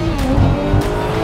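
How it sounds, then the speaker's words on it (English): A Porsche 911 GT3 Speedster engine roars loudly and continuously up close with the roof down, its exhaust note droning with a slight rising pitch. "you get a lot more of that exhaust noise with the roof down"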